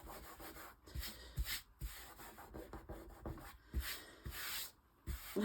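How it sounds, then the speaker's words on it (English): Glue that has oozed out onto a large grungy handmade journal is rubbed away in repeated scrubbing strokes of varying length, close and fairly loud, with no voices. "Now, just wipe off the glue that oozed out."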